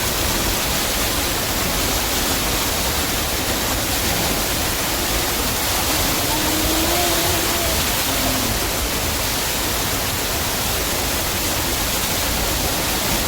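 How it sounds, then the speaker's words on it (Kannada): Flowing river water rushing steadily, a loud continuous broadband wash with no pauses and no talking. "ಹರಿಯುವ ನದಿಯಲ್ಲಿ"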